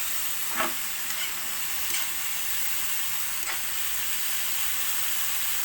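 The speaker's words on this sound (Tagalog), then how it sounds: "Matapos ng ginisa yung carrot, nilagay yung toge" Bean sprouts and carrot sauté in a frying pan with a loud, steady sizzle and hiss, and a few faint clinks of stirring.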